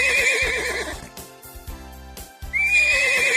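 A horse neighs in a bright, wavering whinny, pauses, then whinnies again, loud and close with no voices.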